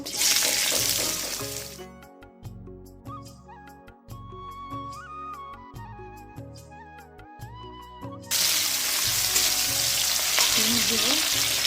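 Ghee sizzles loudly as beans and vegetables fry in a pan for homemade fried rice, with a steady frying hiss, bursts of clatter and stirring, and a quieter stretch in the middle.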